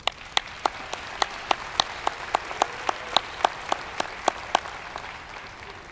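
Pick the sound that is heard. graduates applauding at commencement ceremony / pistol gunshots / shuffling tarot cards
graduates applauding at commencement ceremony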